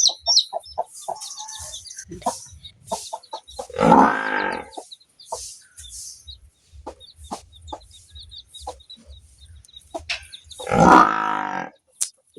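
Hen with newly hatched chicks, giving soft clucks and two loud grunting calls, while thin high chick peeps repeat throughout, close by.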